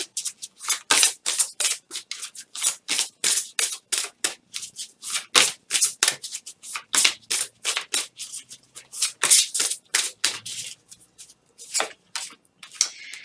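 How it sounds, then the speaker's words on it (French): Gaia oracle cards are shuffled by hand in a long run of quick, crisp riffling bursts. The bursts are close and fairly loud, with brief gaps between them, and no voices are heard. "on va prendre une petite carte de l'oracle de Gaïa"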